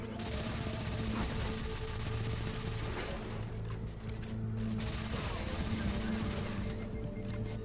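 Submachine gun fire in the Destiny 2 video game, sustained rapid bursts running through the whole stretch over steady game music and mechanical clatter, loud and close.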